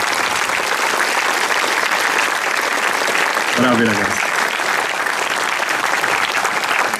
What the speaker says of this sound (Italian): vorrei che venisse dedicato un grosso applauso a tutti i componenti